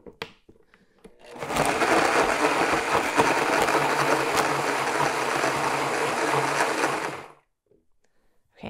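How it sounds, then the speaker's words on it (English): A blender purees comfrey blossoms and stems with a cup of water into a rough mash. It gives a loud, steady churning whir for about six seconds, starting and stopping abruptly. "we're going to get this blended up into a rough puree"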